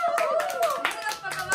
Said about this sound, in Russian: завершаем это видео аплодисментами!